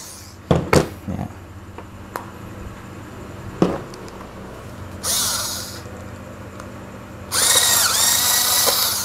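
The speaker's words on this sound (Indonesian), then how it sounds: "biar cepat kita pakai ini aja cordless ya" Cordless drill unscrewing the bolts of a Relix Crossover 6000 or Pioneer Noble 6000 spinning fishing reel: scattered clicks and knocks of small parts, then a short whirring burst and a longer whine that rises in pitch, close by.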